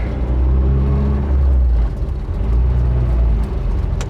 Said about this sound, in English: here goes second gear